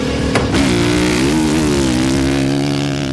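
A 2013 Honda CRF450R motocross bike with twin exhaust pipes revs up close, its loud throaty four-stroke engine rising to a steady, sustained drone with a sharp blip at the start.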